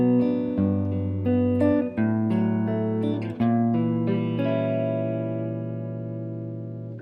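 Solo guitar plays the opening chords of an etude, ringing sustained chords struck one after another with a slight shaken vibrato, the last chord left to decay slowly, close and clear with no voices.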